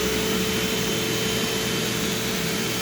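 A Eureka TheBoss SmartVac 4870 upright vacuum cleaner in carpet mode, its motor running steadily with a loud, constant whine and a thin high squeal, alone and close with no talking.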